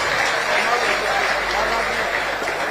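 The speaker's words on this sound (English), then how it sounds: "Let's give all of them a round of applause" Audience applause at a Journalists' Hangout live event honouring guests, a steady broadband wash of clapping sustained evenly throughout without pause.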